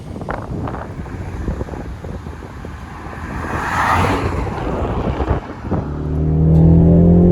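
A Roush-tuned Ford Mustang with a 2.3L EcoBoost engine pulls hard on an open road, its engine note building under heavy wind buffeting before climbing into a loud, rising tone near the end.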